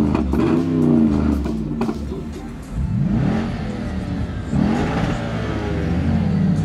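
An Audi S5 engine revs hard past 7000 rpm in loud, close, repeated climbing pulls that rise in pitch, drop back, and surge again toward the limiter.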